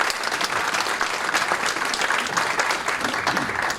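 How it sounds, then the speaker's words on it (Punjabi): Loud, steady applause from an audience at a Punjabi community stage event in the Toronto area, dense clapping sustained evenly throughout with no voices standing out. "ਜ਼ੋਰਦਾਰ ਤਾੜੀਆਂ"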